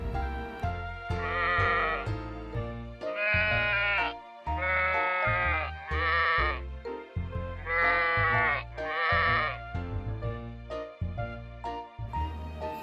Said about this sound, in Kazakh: Ал мынау қой мен оның төлі қозы.